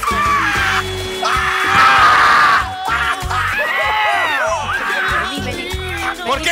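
A woman on an Argentine comedy show screams loudly and at length, her shriek rising and falling with shouted voices and other loud vocal noise around it.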